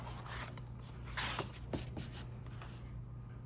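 Paper being trimmed down to size for a junk journal, a few soft scraping and rubbing strokes of a trimmer blade against the sheet, close and fairly quiet, over a steady low hum.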